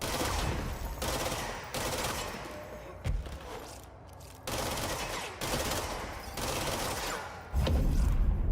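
Gunfire in the game Control: repeated sustained bursts of rapid shots separated by short pauses, loud and close, with a heavy thump near the end.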